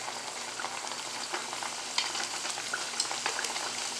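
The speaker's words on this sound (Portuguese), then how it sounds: "vou mostrar fritando" Apple tarts fry in hot oil, a continuous close sizzle and crackle with scattered small pops, steady throughout with no voices.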